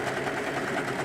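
An overlocker sewing machine runs steadily up close, a continuous dense mechanical whir with no pauses and no voices.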